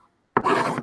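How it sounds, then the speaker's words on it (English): Fabric being burnished down onto handmade decorative paper tape: after a moment of near silence comes a single short, close, scratchy rubbing stroke lasting about half a second. "So I'm burnishing down this fabric just to make sure it's going to"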